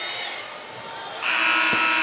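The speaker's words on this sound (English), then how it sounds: "And she puts it in at the buzzer." A game-clock buzzer sounds at the end of the first quarter of a women's college basketball game between Notre Dame and Georgia Tech, a loud sustained electronic tone over crowd noise in an arena.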